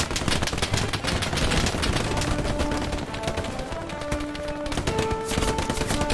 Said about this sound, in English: All I hear is gunfire, bro.